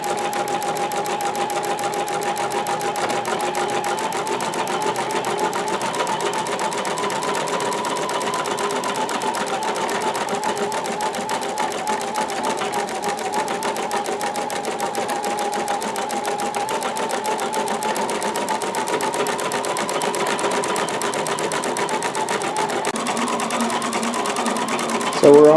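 An embroidery sewing machine stitches free standing lace at full speed, a steady, fast, even mechanical hum and needle chatter running continuously up close, with a person talking over it.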